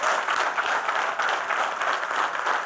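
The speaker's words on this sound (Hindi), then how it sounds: "कड़कड़ाती हुई तालियां।" Thunderous applause from a live audience at an online education event in India, a dense, steady wash of clapping filling the whole short stretch.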